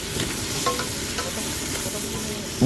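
Chopped onions and green chilies are stirred in hot oil for a crab fry, with a loud steady sizzle and repeated scraping strokes of a spoon in the pan, close up, ending with a louder knock.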